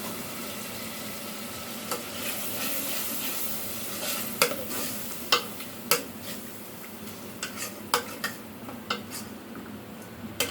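Minced meat with tomato paste sizzling steadily in a pan for a keema dish, with scattered scraping clicks of a spoon stirring against the metal and no voices.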